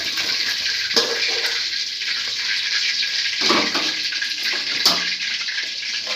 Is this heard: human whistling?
no